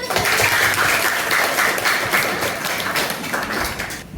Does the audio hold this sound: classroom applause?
yes